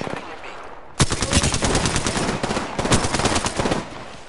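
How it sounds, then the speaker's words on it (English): Enemy gunfire in Apex Legends breaks out after a quiet second, with loud, rapid automatic bursts rattling almost continuously and a brief lull partway through. "The enemies are shooting at me."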